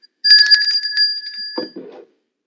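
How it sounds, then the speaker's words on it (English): A bell gives a single bright ring that sustains clearly for about a second and a half and then cuts off. A short, lower, muffled sound follows, all against silence. "Ring the bell for yourself."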